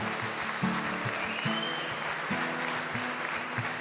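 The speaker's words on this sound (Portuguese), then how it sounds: "Você pode dar um aplauso ao Senhor Jesus pela vida dele?" Applause from a church congregation fills the space steadily, with a low sustained organ or keyboard tone pulsing underneath; no one speaks.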